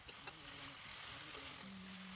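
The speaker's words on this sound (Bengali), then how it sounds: "এটা সম্ভবত আমাদের মাংস কষাইতেছে" Desi chicken braise-fries (kosha) in a pan with a steady close hiss of sizzling oil and a couple of light clicks at the start, without talk.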